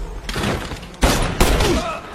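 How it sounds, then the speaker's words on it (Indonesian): Several sharp warning gunshots crack in quick succession, loud and close, with a rumbling background between blasts. "dia melepaskan tembakan peringatan"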